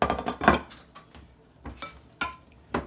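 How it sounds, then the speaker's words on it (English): A utensil stirs squash pieces coated in melted butter in a dish, giving several sharp clinks and scrapes in an uneven rhythm, close and fairly loud, with short quiet gaps between strokes. "I'm just going to stir these around so they've got plenty of melted butter on them"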